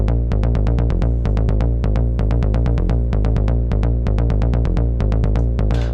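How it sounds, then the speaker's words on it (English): The bass line of a Streets of Rage 2 track plays alone on an Elektron Digitone synth, a steady run of punchy, evenly spaced electronic bass notes that repeats loud and close throughout. "So here is the bass line just on its own."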